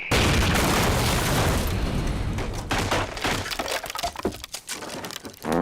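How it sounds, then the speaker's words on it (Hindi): A bomb goes off during a fight scene in the Hindi film Sholay. A loud, sustained blast roars up close, then breaks into crackling, debris-like rumble and scattered cracks. "लड़ाई शुरू हुई और अचानक बम फटता है।"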